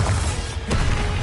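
A Bombarda explosion spell from the video game Hogwarts Legacy goes off as one sharp crashing burst partway through, over a dense, loud layer of game noise.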